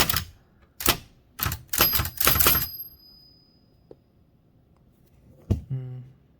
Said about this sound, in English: Okay, maybe I was in fact typing a little too lightly.